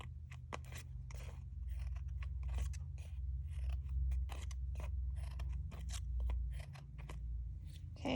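Scissors snip through flower petals, cutting in toward the center, producing a quick series of close, crisp cuts in an uneven rhythm over a low steady hum.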